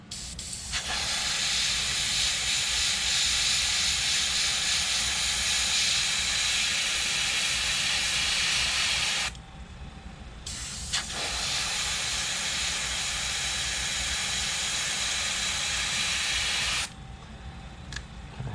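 An airbrush or spray gun lays a second coat of paint on a popper fishing lure, a loud steady hiss in two long bursts with a short pause between, close up and with no talking.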